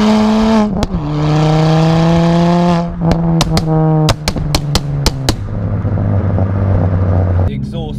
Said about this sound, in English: The exhaust is a custom-made 3-inch cat-back from Laird Performance.